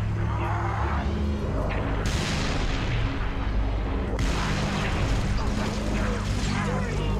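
Heavy booming airstrike explosions and gunfire in the video game Halo Reach, loud and sustained with repeated blasts, while players talk over the battle.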